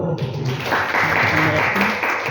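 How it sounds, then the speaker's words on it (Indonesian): A crowd claps together in steady applause, a dense continuous patter filling the room for a couple of seconds. "Tepuk tangan dulu."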